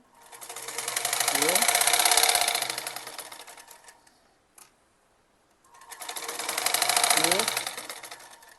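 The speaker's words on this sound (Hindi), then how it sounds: "ये तीसरी सिलाई भी हमारी कंप्लीट हो गई है।" A sewing machine stitches an elasticated puff sleeve on a short kurti in two long rapid whirring runs separated by a pause with a single click, close and loud.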